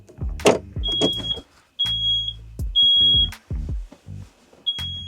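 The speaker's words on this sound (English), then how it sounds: "That's the fire alarm." A fire alarm in an RV gives loud, repeated electronic beeps in a steady on-off pattern, interrupted by clanking thuds nearby.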